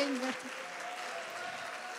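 An audience applauding teenagers at a Nowruz community event, steady clapping throughout with a voice speaking over the start.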